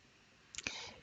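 A computer mouse gives a couple of quick, close clicks in a quiet room, a brief double tap with nothing else around it.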